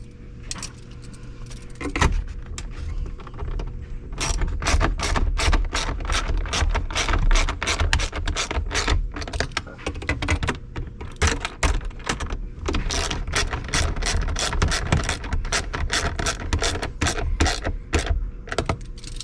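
Ratchet snugging screws into a Ram 1500 pickup's interior trim, rapid close clicking bursts repeated in runs with brief pauses, some handling clatter between, no talk.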